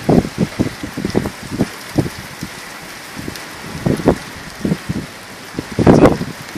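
Gusty wind of 70 to 80 km/h during a Leipzig hailstorm buffets the microphone in irregular bursts, with rain pattering underneath; loud, uneven thumps come and go throughout.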